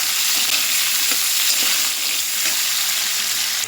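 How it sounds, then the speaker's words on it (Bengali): Potatoes and onions frying together in hot oil, a loud, constant close-up sizzle with faint stirring scrapes and no speech throughout. "আলু আর পেঁয়াজ দুটোই আমি তেলের মধ্যে দিয়ে দিলাম এবার একটু লাল লাল করে ভাজা ভাজবো"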